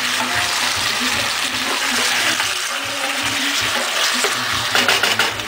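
Canned plum tomatoes are stirred in a pan, a steady wet scraping and squelching with a soft sizzle beneath, continuous and close throughout, with a few sharper clinks of the utensil near the end.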